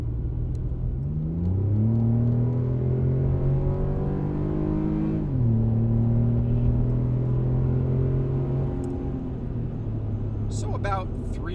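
A Chevy Colorado pickup's GM Performance exhaust drones deeply and steadily at highway speed, its pitch rising, dropping with a shift, then climbing again; a low rumble fills the cab throughout.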